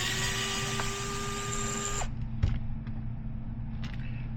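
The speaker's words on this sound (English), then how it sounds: "I like to use 2 millimeter for my screw gun, and this has a torque setting, so we'll make it low" An electric screw gun set to low torque whirs loudly for about two seconds while backing screws out of a Losi Sprint 22s RC car body, then stops, followed by a few small clicks and taps.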